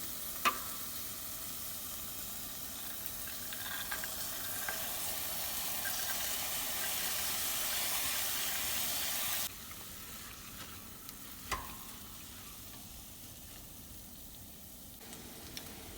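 A steady sizzle from a pan of Persian gheymeh stew, with a sudden soft clatter as soaked split peas are tipped in, after which the hiss drops and quiets down.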